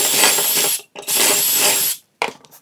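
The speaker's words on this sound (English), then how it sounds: "And now we're only gonna drill out holes 1 and 2." A power drill bores holes through the drilling block of a Beadlock Pro joinery jig: two long, steady whirring runs with a short pause between them, then a brief, uneven burst at the end.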